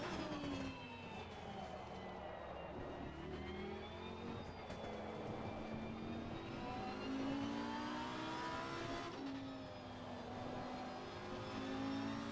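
Race car on slick tyres lapping along the drier racing line of a drying track, engine note rising and falling through gears in a steady, moderately distant drone, with a sharp shift or rev change midway.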